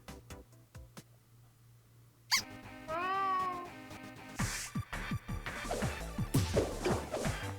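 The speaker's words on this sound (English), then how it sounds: "I need to also avoid that cat who continues to make cameos throughout this little game" A cartoonish cat meow rises and falls in a Game Builder Garage video game, a short squeaky call midway through, surrounded by game music, clattering hits and busy sound effects.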